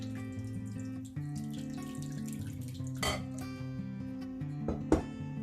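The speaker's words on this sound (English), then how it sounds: "So we're gonna add water." Water runs steadily into a container of cassava for fufu, about 3 to 4 cups, with a low, wavering gurgle, broken by a couple of light clinks near the end.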